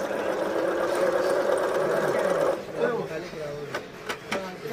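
A Japanese domestic sewing machine stitches a buttonhole with a steady mechanical whir for a couple of seconds, then stops. A few faint clicks follow, and a voice talks over it.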